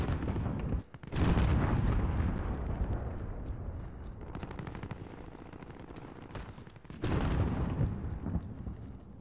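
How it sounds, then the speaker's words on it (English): An enemy cruise missile strike in Call of Duty Modern Warfare, with heavy booming explosions rumbling in rolling waves and two loud blasts standing out, with no voices. "Enemy cruise missile."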